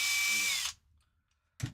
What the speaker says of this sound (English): You got to drill holes in the chassis.